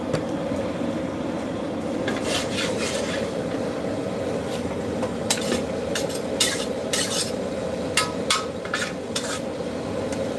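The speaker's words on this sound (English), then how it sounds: "You want to kind of crush the garlic a little bit." Garlic is crushed and stirred in a hot pan before crab goes in, giving a dense continuous frying roar with scattered sharp scraping clicks of a utensil against the pan.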